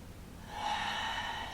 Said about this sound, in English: Take some big deep breaths here